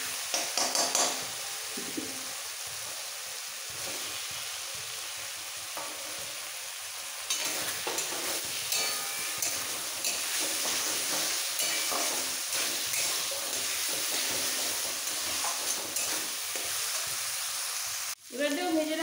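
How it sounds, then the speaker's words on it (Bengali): Cumin paste sautéing in hot oil with fried potatoes for a katla fish and cauliflower curry, a steady loud sizzle throughout with intermittent stirring scrapes, close up, briefly cutting out near the end. "জিরে বাটাটা দিলাম, দিয়ে একটু কষিয়ে নেবো। আর এই কষাতে কষাতে দিয়ে দেবো ভেজে রাখা আলু"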